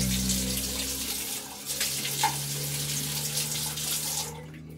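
Water poured from a cup splashes and runs over bathroom tiles in a steady close rush for several seconds, then stops abruptly, with no voices.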